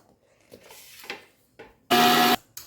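A mixer grinder whirs in one short, loud burst of about half a second as it grinds potato paratha filling with coriander. Softer handling sounds and some talking come before it.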